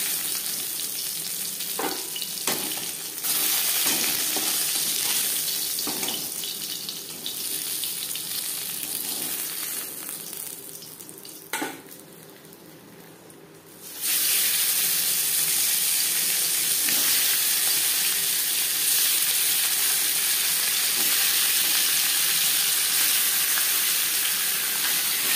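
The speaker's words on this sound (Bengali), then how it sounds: "প্রথম ব্যাচে মাছ ভাজা হয়ে গেছে" Fish fry in hot oil as a batch cooks in a pan: a loud, continuous sizzle with occasional stirring clatter, softer briefly before swelling again and holding steady to the end.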